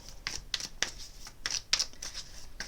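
Tarot cards are shuffled close up in a brisk run of crisp riffling bursts, several quick flutters in a row, with no talking.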